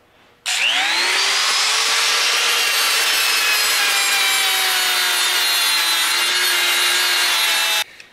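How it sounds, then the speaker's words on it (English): A small disc on a die grinder spins up and smooths bent steel tubing, a loud, sustained high-pitched whine with a rising pitch at the start, held steady for about seven seconds before cutting off. "Just a little disc on a die grinder works pretty good."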